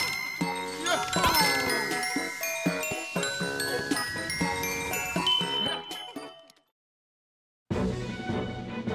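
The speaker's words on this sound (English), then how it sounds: "it includes jingle bells" Bright jingling bells and chiming tones from a Christmas video game level, dense and busy, cutting off into silence before resuming.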